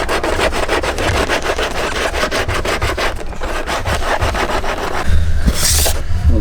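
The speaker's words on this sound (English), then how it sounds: "that was like 45 seconds of sanding, and this side's almost done" A part for a Nissan 240SX rubbed by hand with 80 grit sandpaper, producing close, steady back-and-forth scraping strokes in a quick regular rhythm, with a slight shift near the end and no talk.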